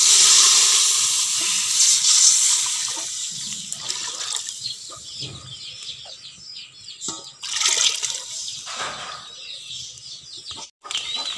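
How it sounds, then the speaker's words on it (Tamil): Tamarind water poured into a hot pan for fish curry sets off a loud hiss and sizzle that gradually settles into uneven bubbling, with a few clattering bumps. "அடுத்து புளி தண்ணியை ஊற்ற போகிறோம்."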